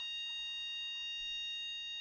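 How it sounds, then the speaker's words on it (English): A fire alarm sounds continuously at a steady electronic pitch, a sustained multi-tone blare indoors at moderate level with no speech over it. "someone wants to be setting off the fire alarm"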